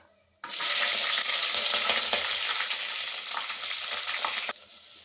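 Green chillies go into hot oil with curry leaves and cardamom for a vegetable biryani, setting off a loud, steady sizzle that starts abruptly and holds for about four seconds before cutting off.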